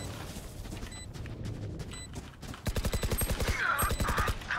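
Gunfire in a competitive Valorant match: scattered single shots at first, then a fast, evenly spaced automatic burst of loud cracks, with sharp game interface tones chiming over it.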